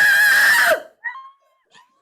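A person screams into a tube, a loud, strained, harsh cry lasting under a second that cuts off abruptly, followed by two short faint tonal bits in near silence.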